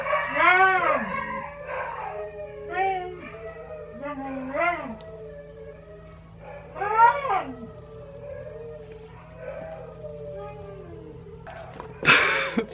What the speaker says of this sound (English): And the dogs are starting to howl